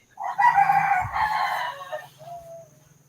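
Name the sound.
rooster crowing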